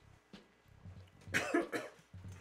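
A short burst of coughing, a couple of harsh barks close up, with quieter low rustling before and after.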